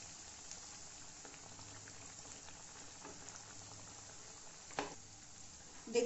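Sabudana vada frying in hot oil gives a soft, continuous bubbling sizzle that stays even and fairly quiet throughout, with a couple of small clicks and pops near the end.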